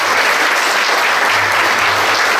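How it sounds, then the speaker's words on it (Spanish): A church congregation applauds steadily for a couple of seconds, a dense, loud, even wash of clapping with no talk over it. "Denme un aplauso a las mujeres que están agradeciendo."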